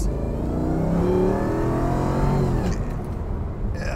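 The supercharged 5.4-liter AMG V8 of a 2008 Mercedes SLR McLaren revs up nearby, its pitch climbing in a loud throaty roar before easing off abruptly.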